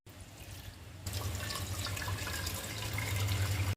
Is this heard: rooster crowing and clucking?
no